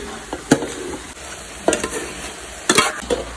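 Chicken being stirred with soy sauce and tomato sauce in a hot pan while cooking, with a steady soft sizzle and a few scraping spoon strokes against the pan, close up.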